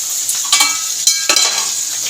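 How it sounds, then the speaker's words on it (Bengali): Pabda fish fry in a pan with a loud, close, continuous sizzle, broken by a few sharper spatters and the clatter of stirring. "পাবদা মাছ ভাজা হচ্ছে"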